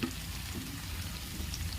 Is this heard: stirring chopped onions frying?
yes